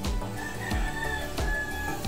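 Chickens and roosters clucking and crowing together in a close, busy chorus, with the calls overlapping in a steady rhythm.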